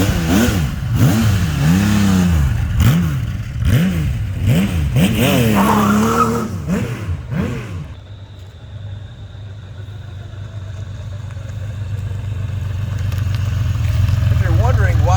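A 1982 Kawasaki KZ1300, a liquid-cooled 1300cc six-cylinder motorcycle, revs loudly through repeated rising and falling gear pulls, then drops to a steady, smooth idle hum that gradually builds again.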